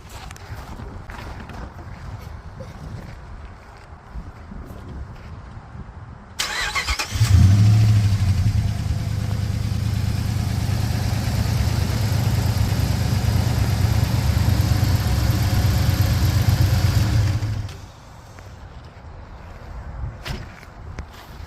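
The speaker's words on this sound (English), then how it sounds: "We noticed this morning that the engine had a tick after driving back here from California" A RAM 1500 engine starts and idles steadily for about ten seconds, a rough running hum with a faint rapid ticking, then shuts off.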